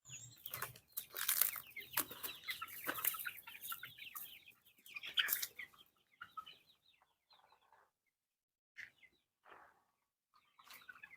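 Native country chickens, about forty days old, on a small village poultry farm give rapid clucks and squawks with bursts of wing flapping, busy at first and then thinning to sparse calls in near silence.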